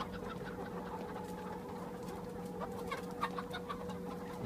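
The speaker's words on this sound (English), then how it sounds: "Lovely little birds." Nova Brown chickens clucking steadily in a small flock, soft repeated clucks over a constant low hum, with no talking.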